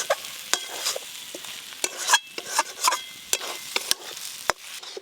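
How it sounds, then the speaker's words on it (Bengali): A spatula mashes and stirs boiled potato into a spiced fish chop stuffing of loitta fish and coriander in a pan, close, with sharp irregular scrapes and clacks of metal on metal over a faint sizzle and no voices. "আর এই খুন্তি দিয়ে একটু ভেঙে ভেঙে দেবো আলুগুলো"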